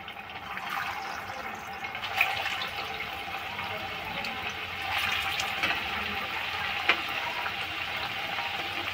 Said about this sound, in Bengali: ভাজার জন্য সাদা তেল দিলাম। একে একে কোপ্তাগুলো ভেজে নেব।